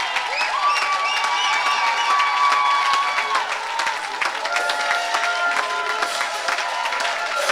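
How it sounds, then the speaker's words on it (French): A church congregation cheers and applauds for Jesus, with continuous dense clapping mixed with shouts and high, sustained cries of acclaim throughout. "Donne une grande acclamation à Jésus."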